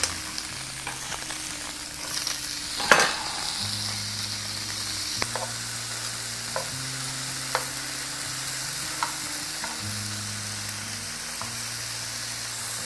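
Strips of beef steak sear in a hot stir-fry pan for pepper steak, giving a steady close sizzle with scattered pops and a sharp clatter near the three-second mark as the meat is stirred.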